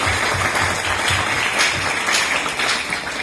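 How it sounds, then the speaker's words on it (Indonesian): Scouts at a jamboree in a village hall clap together in a steady, dense burst of applause that fills the room at close range throughout. "Tepuk tangan untuk kita semua."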